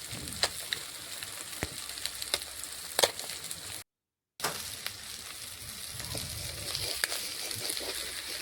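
Morola fish coated with mustard sizzles and fries steadily in a wok, with occasional sharper crackles and pops throughout.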